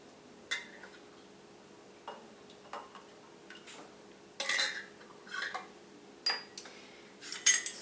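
Metal canning rings are screwed onto glass jars of homemade BBQ sauce, producing scattered light clinks and ticks spaced irregularly, with a faint background hum.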